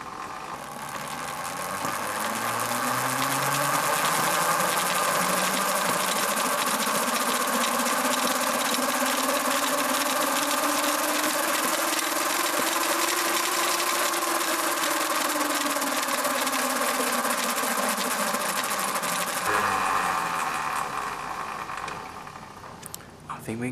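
A Ducati SS600 motorcycle converted to electric power and running on a LiFePO4 battery pack hums with a steady motor whine that rises in pitch, holds, then falls away before the sound cuts off near the end.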